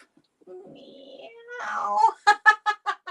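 During a laughter yoga session, people imitate a cat's meow with drawn-out vocal meowing that breaks into a string of short, loud laughing bursts, close to the mic.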